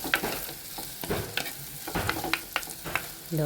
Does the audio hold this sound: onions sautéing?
yes